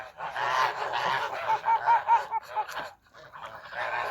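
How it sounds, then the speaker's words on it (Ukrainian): A young female goose on a farm honks close by in a run of repeated nasal calls, with a short gap before more honking. "Мені здається, що то гусочка"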